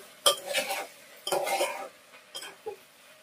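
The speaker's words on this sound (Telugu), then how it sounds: "ఇప్పుడైతే మంచిగా కలిపేసుకుందాము" A spoon stirs okra and tomato curry in a metal pan, giving three close bursts of scraping and clattering about a second apart, followed by a couple of light taps, with no talking.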